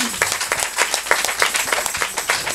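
Congregation in a church clapping together in a steady, lively rhythm, each clap sharp and close, continuing evenly throughout with no speech.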